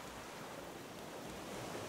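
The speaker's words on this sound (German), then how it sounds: "aber die Wellen sind echt arg" Ocean waves in the survival video game Raft, a steady, soft wash of surf and wind noise with no clear breaks, faint and continuous with nobody speaking.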